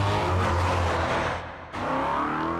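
A race car engine roars loudly close by as it drives through a turn, with a brief dip in the engine note before it revs back up and the tires skid.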